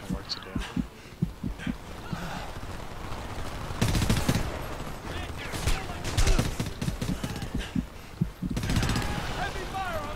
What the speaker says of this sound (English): Heavy fire on my position.